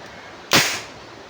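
AR-15 rifle charging handle yanked back and let snap forward, a single sharp close metallic clack with a brief ringing tail, alone in a quiet room.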